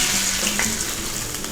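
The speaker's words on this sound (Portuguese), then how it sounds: "pego a gordura dele e coloco por cima, como se tivesse pururucando" Hot duck fat spooned over the skin of a duck breast (magret) in a pan sizzles steadily and loudly throughout, a dense continuous frying crackle.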